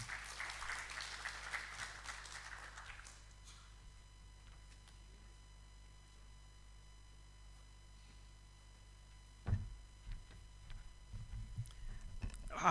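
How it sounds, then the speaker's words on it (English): An audience at an international education conference claps after a presentation. The applause lasts about three seconds, then gives way to a quiet room hum with a few scattered clicks and small knocks near the end. "How about we give another round of applause to Isabella?"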